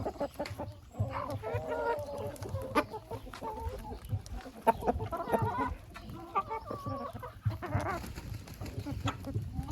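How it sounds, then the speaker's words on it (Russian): Chickens in a yard cluck and murmur continuously while pecking at grated raw red beetroot, several birds close by with soft irregular calls and pecking taps. "Куры его с удовольствием кушают."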